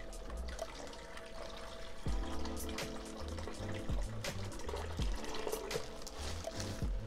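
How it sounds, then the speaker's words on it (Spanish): Aquarium water is poured slowly from a small container into a tank, a close, soft trickle and splash with gentle repeated pours. "con un trastecito vamos a agarrar agua del mismo acuario y la vamos a ir metiendo"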